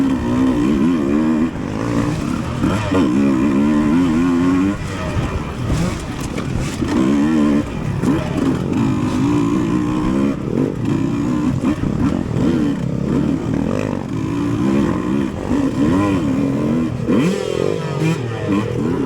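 Dirt bike engine in a cross-country race on soft soil drones steadily and loudly up close, revving up and down as the rider shifts and accelerates over the whole stretch, with little else audible.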